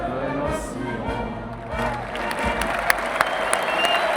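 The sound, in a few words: audience applauding after national anthem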